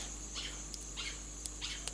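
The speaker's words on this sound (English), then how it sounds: "Sounds like a frog." Frog calling outdoors, several faint chirping croaks spaced about every half second to second, over a steady background hum.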